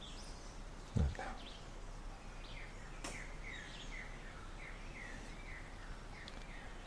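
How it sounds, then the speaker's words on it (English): Birds sing outdoors in a quiet setting: faint, distant chirps and short trills are scattered over a soft steady background, with one brief low bump near the start. "So we pay attention to the birds."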